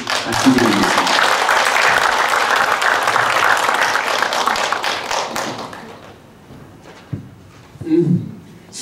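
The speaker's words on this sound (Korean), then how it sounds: "여러분 우리 고각 스님께 박수 드리겠습니다." Applause from a seminar audience after a monk's talk, a dense sustained clatter of many hands for about six seconds before thinning out into scattered taps and thumps.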